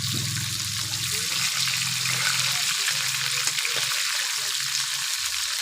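Tangra fish pieces fry in a pan of oil, giving a continuous bright sizzle and hiss while a voice talks over it.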